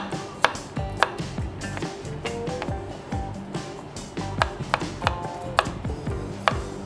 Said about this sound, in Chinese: 蒜頭都好簡單，將佢切片就係代用嘅